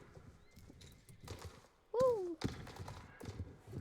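A horse in the video game Star Stable Online, its hooves clip-clopping softly in a quiet, uneven rhythm, with one brief whinny-like call in the middle and a voice murmuring briefly.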